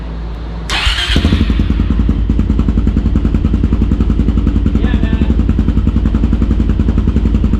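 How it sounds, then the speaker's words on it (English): A quad being prepped for the Glamis dunes, with a newly fitted filter, cranks and catches with a sharp burst, then settles into a loud, steady, rapidly pulsing idle recorded close by the exhaust, with a brief spoken remark. "Idle's perfect, starts right up."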